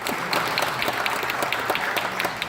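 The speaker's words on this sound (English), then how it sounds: "Give him a round of applause." Audience at a Hispanic chamber networking event in Manhattan claps steadily, dense close applause with sharp individual claps sustained through the whole stretch.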